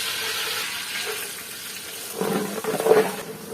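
Onions and green chilies frying in soybean oil in a large pot for village-style chicken biryani, a steady close sizzle that swells louder and rougher near the end.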